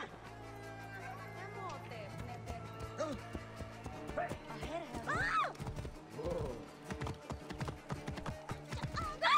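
Horse hooves clip-clop steadily at close range in the video game Assassin's Creed Origins, a repeating rhythmic patter that continues beneath talk and a brief whinny.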